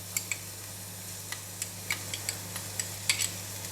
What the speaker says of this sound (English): We are frying the garlic until fragrant and crispy.